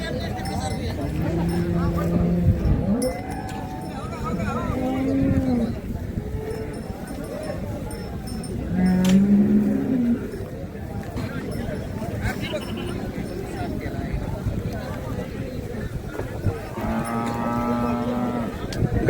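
Cows low repeatedly at a livestock market in Karad, Satara, several drawn-out moos rising from different animals amid a busy crowd and nearby voices.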